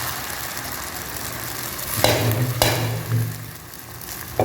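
Coconut omelette batter poured into hot oil in a pan, sizzling and spitting close by, with a sharp burst near two seconds and a steady frying hiss after it.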